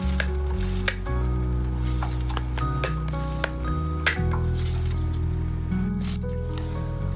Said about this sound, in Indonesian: Langsung saja telur 1 butir, dia acak-acak atau diorak-arik ya teman-teman, biar sampai matang dulu si telurnya.